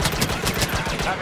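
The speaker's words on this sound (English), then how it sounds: "You don't like blaster fire?" Rapid bursts of blaster fire from a Star Wars Battlefront video game battle, a dense run of sharp, loud shots in quick succession with no talk.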